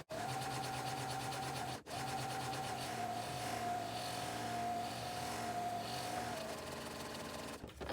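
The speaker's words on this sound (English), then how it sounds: "we will sew again down the closed side of the strap" A sewing machine with a walking foot runs steadily down the closed side of a vinyl crossbody strap, a continuous close motor whir that pauses briefly near two seconds and then keeps running to the end.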